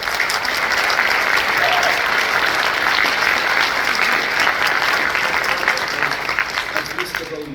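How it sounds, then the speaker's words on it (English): Loud, continuous applause from an audience at an announcement event for the London New Year's Day Parade, dense clapping from a packed room holding steady throughout with some voices mixed in. "Give yourself another round of applause"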